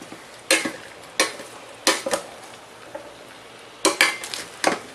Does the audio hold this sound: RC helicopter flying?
no